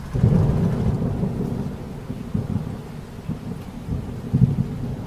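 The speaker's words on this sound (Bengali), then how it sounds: "মুষলধারা বৃষ্টির আর ঝড়ের দাপটে সামনে এগোনো বড়ই মুশকিল।" Heavy rain roars steadily with deep rumbles of thunder rolling underneath, a dense, continuous storm wash with no voices.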